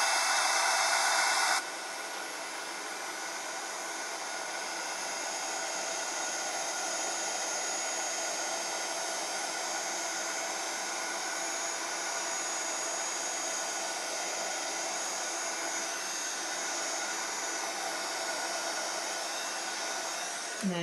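A heat tool blows a steady, loud whooshing roar while embossing powder is melted on stamped vellum, running continuously for about twenty seconds after a brief higher-pitched start.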